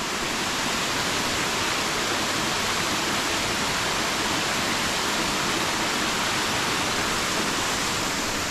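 Tat Mok waterfall near Muang Ngoy in Luang Prabang province, Northern Laos, roars as a dense, steady rush of falling water, loud and close, unbroken for the whole stretch with no voices.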